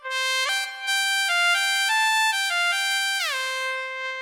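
A Greaten AP300 Pro electronic wind instrument blown with continuous air plays a smoothly connected line of bright, buzzy synthetic notes with no breaks between them, sliding from pitch to pitch.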